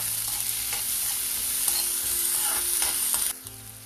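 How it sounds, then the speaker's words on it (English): Onions sautéing in a hot pan, a loud continuous sizzle with occasional stirring scrapes, close and steady until it drops off near the end. "add onions. These onions just have to get translucent."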